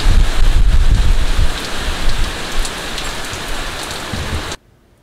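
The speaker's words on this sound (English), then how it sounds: "You might still hear the wind howling." Steady storm wind and rain rush across the surface in a dense, loud wash of noise, gusting slightly before cutting off abruptly near the end.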